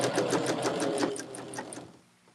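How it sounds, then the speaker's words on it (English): Sewing machine stitching a quarter-inch seam in quilt fabric strips, a close, quick run of evenly spaced needle taps with a steady motor whir that slows and stops near the end. "we're going to sew a 1/4-inch seam"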